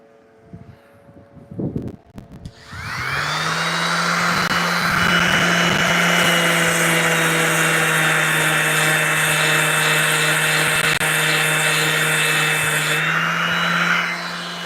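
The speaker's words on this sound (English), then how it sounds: "All right, I'll sand it first. I'll plug my sander in." Electric sander grinding on a knife blade, starting up after a few handling knocks and then running loud and steady with a droning whine for about eleven seconds before winding down.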